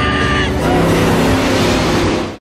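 A truck from the film Monster Man drives hard with a loud, steady engine roar and a high whine that drops away early, ending in an abrupt cutoff.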